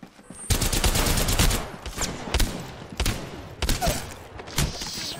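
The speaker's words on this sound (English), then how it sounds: "Whoa, another one with an energy gun." Bursts of energy-gun fire in a first-person shooter game, several loud, rapid volleys separated by short pauses, close and dense with no talking over them.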